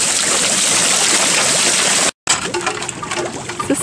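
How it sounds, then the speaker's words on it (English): Water wheel on an organic farm splashing and gushing steadily, a dense close rush of falling water that drops out briefly and then returns with uneven splashes. "Water wheel."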